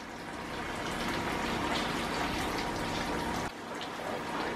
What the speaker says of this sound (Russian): сейчас в сковородку добавляю пару черпаков бульона.